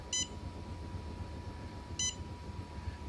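Two short, high electronic beeps about two seconds apart over a faint steady hum.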